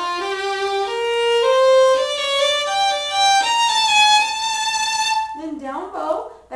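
A violin plays a slurred up-bow passage from Gypsy Waltz, a smooth run of sustained, connected notes stepping upward, close and clear, followed by a moment of talk.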